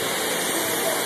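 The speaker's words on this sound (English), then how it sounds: "Lewis jumping off the waterfall for 20 bucks" Congo River waterfall pouring in a steady, dense broadband rush, close and loud throughout the brief moment with no break.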